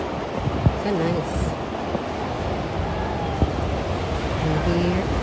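Ocean waves wash steadily onto a black sand beach in Tenerife, a continuous broadband roar with gusty wind buffeting the microphone and faint voices in the background.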